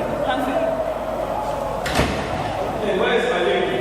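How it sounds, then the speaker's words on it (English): A door opens somewhere behind a group of people: a single sharp thump midway through, heard at a distance over steady background noise and voices. "can hear a door open behind them."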